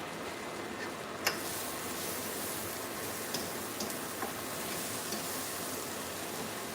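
Onions sizzle and fry in a pan on a grill with steady, crackling hiss, broken by a few sharp spits and pops, close and continuous with no talking.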